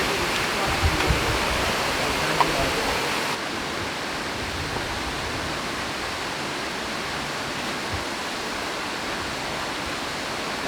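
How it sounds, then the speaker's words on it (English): A waterfall pours in a steady broadband rush, used as a shower, loud and close at first and then slightly duller and steadier after a few seconds, with no talk. "Very nice shower right under the waterfall"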